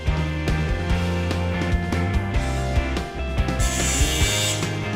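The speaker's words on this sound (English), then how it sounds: "Push the panel firmly against the framing and operate the gun to pull the rivet." Rivet gun pulling a rivet through a panel pressed against top hat framing: a continuous loud mechanical ratcheting and grinding with repeated clicks throughout, brightening near the end.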